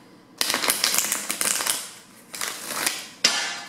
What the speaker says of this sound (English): Look how I just shuffle that.